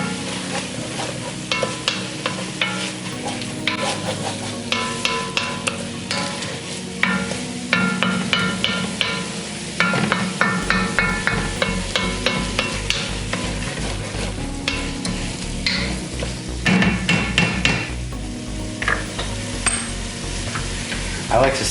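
Mushrooms and onion cook in a pot for one-pot beef stroganoff, a soft sizzle under repeated scraping and clacking as a utensil stirs them in an uneven rhythm.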